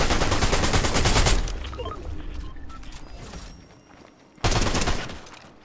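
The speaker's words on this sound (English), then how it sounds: "Oh, somebody's shooting at me." Gunfire in the video game Fortnite: a dense burst of rapid shots for over a second, a quieter stretch of distant scattered fire, then another loud close burst near the end.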